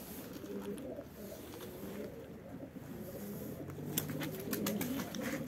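Pigeons coo softly in low, repeated throaty calls while being fed outdoors in wet, muddy conditions, with faint rustling and scattered clicks around them.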